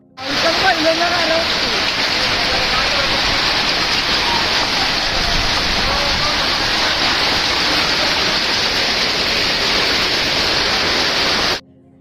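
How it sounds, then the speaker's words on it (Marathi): Heavy rain with hail pours down in a dense, roaring wash of noise, loud and constant for about eleven seconds before cutting off abruptly. "अशा प्रकारचा गारपिटी सोबत पाऊस राज्यातील बऱ्याच भागात झालेला आहे"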